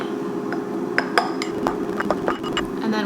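Cilantro lime rice being mixed in a bowl, with a series of scattered clinks and scrapes of a utensil against the dish over a steady background hum, close and fairly soft.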